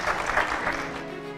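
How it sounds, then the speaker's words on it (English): Audience applause for panelists at an America 250 Independence Day broadcast, a steady, dense wash of clapping from a crowd that holds level and starts to thin slightly near the end. "Please give a round of applause to our excellent panelists here."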